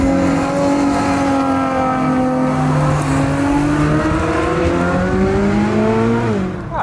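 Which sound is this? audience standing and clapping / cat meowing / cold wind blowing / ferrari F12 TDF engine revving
ferrari F12 TDF engine revving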